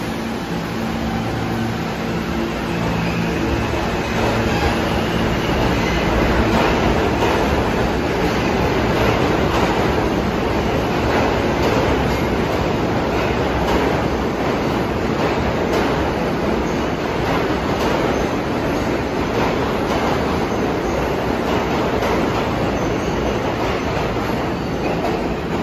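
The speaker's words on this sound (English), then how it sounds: "And these Pullman standard R46s." A New York subway train of Pullman Standard R46 cars rumbles through the station, with loud continuous clattering of wheels and rails filling the whole stretch at close range.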